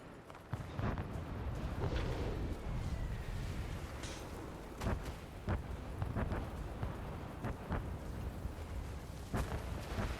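A mortar fires in Guild Wars 2 amid a rumbling, storm-like wash of game noise: several dull booming thumps recur at irregular intervals over a dense background, with no one talking.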